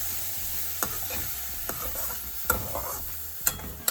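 Snake gourd frying in a pan on low heat, a soft continuous sizzle broken by sharp spoon scrapes and taps against the pan at irregular intervals, close by and without speech.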